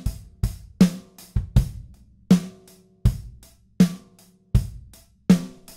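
A Superior Drummer Custom Shop drum kit with added reverb plays a steady groove alone, with punchy kick and snare hits about every half second, each ringing out into a washy reverb tail.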